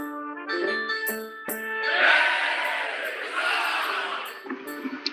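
A crowd of knights cheers and shouts in a broad, swelling roar that peaks and then settles, heard over faint background music and chimes in a tabletop game setting.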